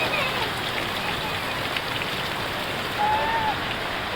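Heavy rain pours down in a steady, hissing wash, constant and fairly close, with a faint brief tone rising above it near the end.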